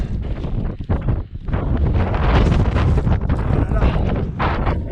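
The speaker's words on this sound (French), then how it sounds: "Il y a un petit peu moins de vent là." Strong blizzard wind buffets the microphone in a snowy, icy winter storm, a loud continuous roar with gusty surges and brief dips throughout.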